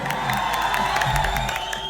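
Audience at an event cheering and applauding for actress Niruta Singh, a dense wash of crowd noise with clapping and shouts blending together, steady and fairly loud.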